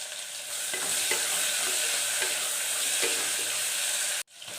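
Curry leaves hit hot oil in a pan with a loud, dense, continuous sizzle and a few stirring scrapes, close up, cutting off abruptly near the end before resuming.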